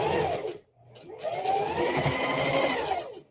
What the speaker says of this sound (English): You could sew right at the very edge of the presser foot, or you could sew 1/2 inch